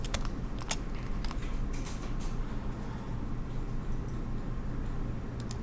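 Computer keyboard keys clicking while modelling in SketchUp, a few scattered sharp taps over a steady low hum, fairly faint and close.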